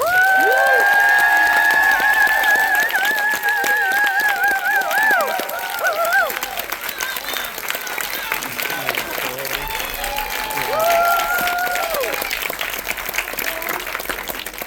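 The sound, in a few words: audience applause and cheering at film Q&A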